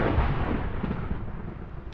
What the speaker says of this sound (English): probably there'll be thunder and lightning any time now